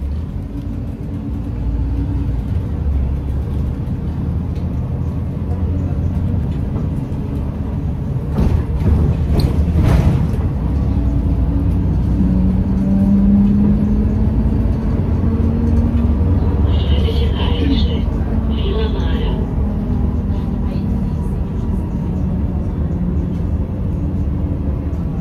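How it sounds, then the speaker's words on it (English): Traffic rolls along the main road from the airport to downtown Belgrade, Serbia, as a steady close rumble with a swell of passing vehicles and a faint horn-like tone, under a speaking voice. "the main road from the airport to the downtown"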